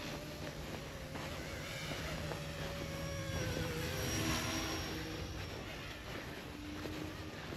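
A mini RC helicopter flying gives a faint, continuous whirring whine that swells a little toward the middle and then eases, heard at a distance with no talking.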